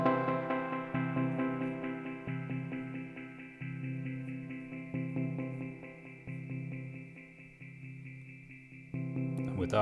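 An analog synth triad chord pulses with a rhythmic tremolo chop and triplet echo repeats, fairly quiet and steady over several seconds, heard alone without talking.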